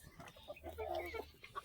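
Free-range village country chickens cluck up close in a short burst of several soft, throaty calls, one louder squawk at the end, with faint outdoor background.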